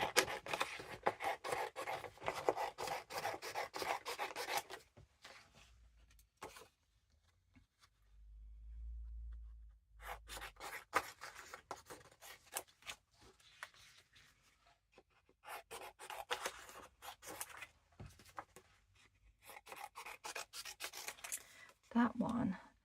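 Scissors cutting paper down the middle for a Christmas junk journal craft, close, quiet rhythmic snipping and scraping in bursts separated by short pauses, with a faint low rustle in between.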